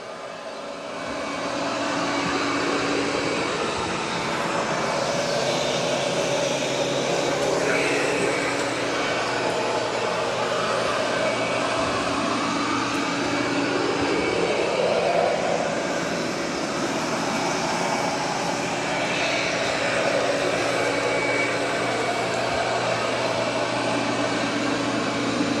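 A Eufy 11S Max robot vacuum runs continuously nearby with a loud, steady motor and suction whoosh, its pitch shifting slightly as it moves across the floor; no one speaks.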